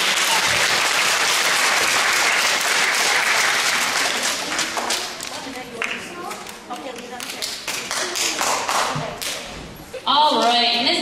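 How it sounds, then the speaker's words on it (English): School awards ceremony audience claps in a loud, dense round of applause that thins into scattered claps and thumps, with voices starting to speak as the clapping fades. "Let's clap one more time"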